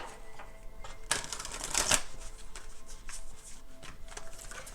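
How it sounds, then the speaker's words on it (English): A Mystical Shaman Oracle deck is shuffled and cards are drawn by hand, giving close, continuous riffling and flicking of card stock with a few louder bursts of quick slaps and rustles. "you can fast forward the parts where I'm like shuffling and taking cards"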